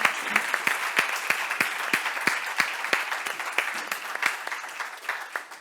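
Audience applause following a talk on artificial intelligence, dense continuous clapping from a room of listeners with distinct individual claps standing out, steady throughout.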